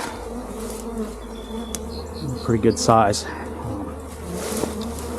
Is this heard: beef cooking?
no